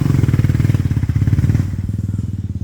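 A 450 dirt bike on an enduro trail, its engine roaring close and loud with a rapid pulsing throb that eases slightly toward the end.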